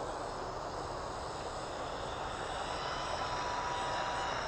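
A model airplane engine runs steadily and close by, a continuous loud droning whine that holds an even pitch with no talk over it.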